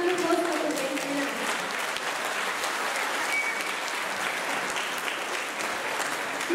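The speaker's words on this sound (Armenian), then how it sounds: "Այժմ եկեք բարձր ծափահարություններով ողջ ունենք և մեր շնորհակալություն ցուցաբերենք նրան։" An audience at a concert evening in Gyumri gives loud, sustained applause to a Uruguayan Armenian dance group, a continuous wash of many hands with a few voices mixed in.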